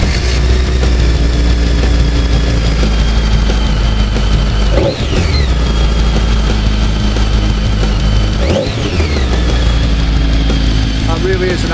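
A BMW K1200S motorcycle engine idles steadily with a deep, throaty growl, close and loud throughout, with two brief blips where the revs dip and recover.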